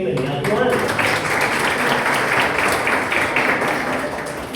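A church congregation bursts into steady welcome applause, dense clapping that holds evenly throughout with a few voices mixed in.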